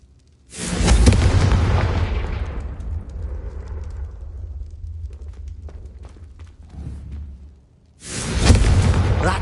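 The Confringo explosive spell goes off in a Hogwarts video game with a deep, loud blast that rolls into a long decaying rumble over several seconds, then a second booming burst near the end.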